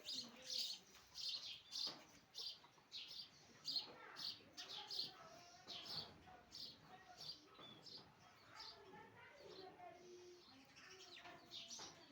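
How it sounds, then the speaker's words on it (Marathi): A house sparrow near its nest chirps again and again in quick, busy bursts, close and fairly clear over a quiet background. "बघा ही चिमणी परत आता आलेली आहे"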